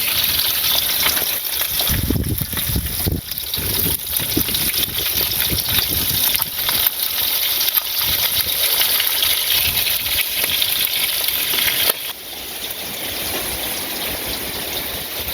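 Water gushing and pouring steadily during an outdoor village bath, a loud continuous splashing stream close by that drops to a softer flow near the end, with no talking.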